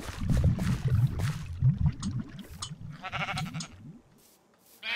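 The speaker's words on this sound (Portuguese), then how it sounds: "Uma ovelha rosa!" Pink sheep in Minecraft bleating in several short, close calls, with game footsteps and clatter rumbling underneath and brighter chimes near the end.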